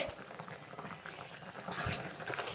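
A pot of ripe mango curry bubbles and simmers steadily, a soft continuous gurgle with occasional small pops, close by and fairly quiet.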